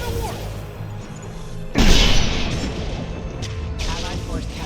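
A warp biotic power from Mass Effect 2 slams into enemies in combat: a sudden heavy crashing impact with a bright burst that lingers in a rumbling wash, amid ongoing battle noise.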